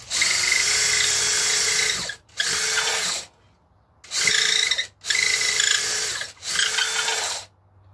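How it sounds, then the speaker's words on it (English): A power drill bores into a resin-topped guitar body in five bursts of high whining grind, each lasting about a second or two and separated by short pauses, close and loud with no talking. "You don't want the drill to start wandering."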